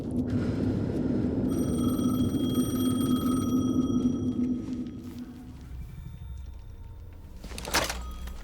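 Telephone ringing inside the video game Alan Wake II, a steady electronic ring with tonal harmonics repeating for several seconds over a low ambient drone, ending in a brief clunk.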